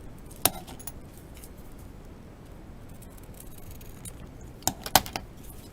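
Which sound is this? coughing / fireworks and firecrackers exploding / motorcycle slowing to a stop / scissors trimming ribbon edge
scissors trimming ribbon edge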